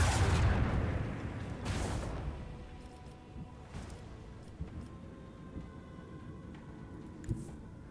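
Macro cannons firing in the Warhammer 40,000: Rogue Trader video game: a heavy boom opens, then several lighter blasts and rumbles trail off over a low background.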